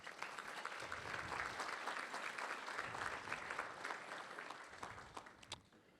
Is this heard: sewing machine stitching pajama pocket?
no